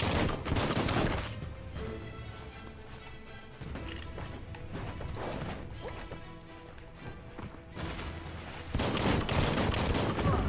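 Rapid bursts of gunfire and impact crashes in the video game Biomutant, loud clustered volleys over game music, with brief pauses between exchanges.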